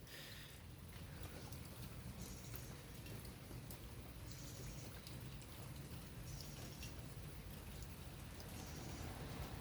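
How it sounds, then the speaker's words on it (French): Rain falls steadily outdoors, a faint, continuous patter of drops on surfaces with occasional soft chirps in the background and no talking. "Là, ça fait 3 jours qu'il pleut, il pleut,"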